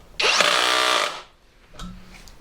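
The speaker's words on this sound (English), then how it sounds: "screwing into old hard oak without a pilot hole" An ERBAUER power drill drives a screw into old hard oak without a pilot hole, giving one loud, strained whine for about a second before it cuts off, followed by a fainter short burst.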